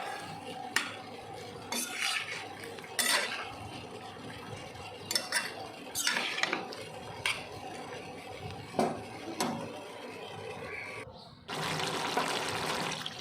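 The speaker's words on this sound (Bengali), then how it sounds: "জলটা দিয়ে দিলাম। ঝোলটাকে ভালো করে মিশিয়ে নিচ্ছি।" Jackfruit curry gravy, freshly watered, is stirred in a pot with a spoon, making intermittent scraping knocks and sloshes, then a loud bubbling hiss near the end; fairly quiet and close with no talking.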